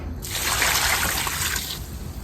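Water pouring steadily into a bucket to soak a coconut coir block, a close, fairly loud splashing gush lasting about a second and a half before tapering off.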